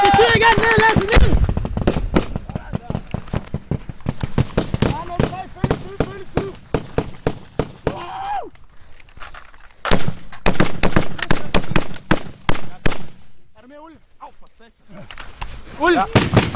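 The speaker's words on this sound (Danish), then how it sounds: "De skyder igen!" Danish forces exchange fire with the Taliban: rapid bursts and single loud gunshots crack close by in dense volleys, with brief lulls, while soldiers shout to each other in between.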